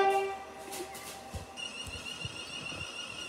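A video game train (SCR, Stepford County Railway) rumbles along with a steady tonal hum and a high whine, soft clicks of wheels on track beneath, moderately quiet throughout.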